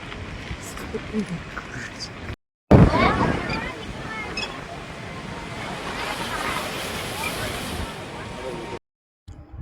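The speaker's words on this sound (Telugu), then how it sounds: "ఇలా విజృంభించేటప్పుడు చూడండి విజృంభిస్తూ సముద్రుడు ఉంటాడు" Sea waves surge against the shore at Dwarka in a churning, splashing roar that rises sharply after a brief cut and continues steadily, with wind noise.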